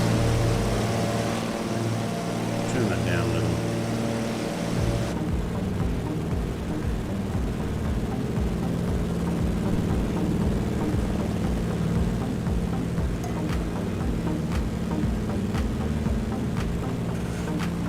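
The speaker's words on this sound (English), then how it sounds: "I can definitely hear the plane now." A de Havilland Beaver's piston engine drones steadily and loudly in Microsoft Flight Simulator, a dense continuous roar that barely changes. A voice speaks briefly at the start.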